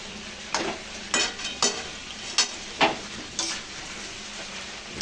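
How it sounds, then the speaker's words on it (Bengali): Meat being dry-sautéed (kosha) in a pan with salt, giving a steady close sizzle broken by repeated scraping bursts as it is stirred, with no voices. "আমার কষা হয়ে গেছে মাংস"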